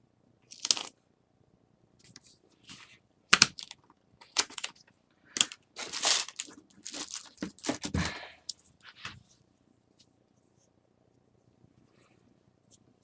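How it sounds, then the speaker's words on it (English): Tape crinkles and peels in short bursts as strips are laid down on a paper album, with scattered taps and rustles close by and quiet gaps between them. "I'm just going to keep putting tape down."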